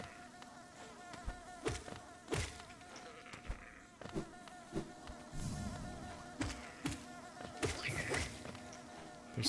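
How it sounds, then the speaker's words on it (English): Swarm of bees buzzing in the Hollow Knight video game, a continuous insect drone with repeated brief thuds and taps over roughly ten seconds, no talk. "There's still a lot of bees around here"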